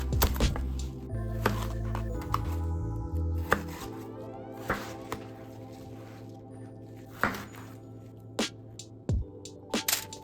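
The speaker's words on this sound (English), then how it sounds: "Slice your watermelon into big slabs because we're gonna grill it." A knife cuts watermelon into big slabs on a board, making several sharp, separate chops and thuds spread across the stretch. A loud musical backing with low tones runs under the cuts, and no one speaks.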